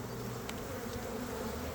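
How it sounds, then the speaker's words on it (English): Honey bees buzz in a dense, continuous drone as they are shaken off a heavy hive frame, close and fairly loud, with a couple of brief knocks. "Shake the bees off."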